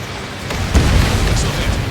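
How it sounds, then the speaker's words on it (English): A missile striking and exploding in Ace Combat 7: Skies Unknown, a single muffled boom with a low rumbling tail, moderately loud under a constant engine-like drone. "Missile hit."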